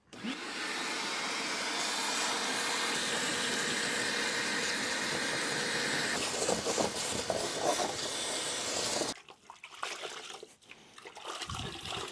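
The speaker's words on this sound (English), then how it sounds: "So we'll just go ahead and vacuum it." A vacuum cleaner roars steadily up close while cleaning a shower floor ahead of self-leveling, then switches off and leaves faint handling noises.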